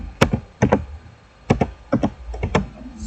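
Keys tapped on a computer keyboard, about eight distinct clacks in uneven bursts with short pauses, close and clear, no talking.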